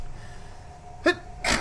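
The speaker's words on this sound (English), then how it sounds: "I gotta sneeze." A person gives a sharp intake of breath and then one loud, close sneeze, set against a quiet background.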